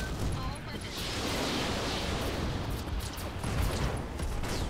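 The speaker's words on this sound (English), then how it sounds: "Fire on this guy with everything." Mech weapons fire in the BattleTech mod Roguetech, a dense barrage of overlapping blasts and rattling impacts that keeps up for several seconds at moderate loudness.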